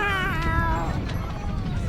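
An animated cat from Disney's Cinderella II lets out one loud, drawn-out yowl that wavers in pitch. The cry then fades into background noise.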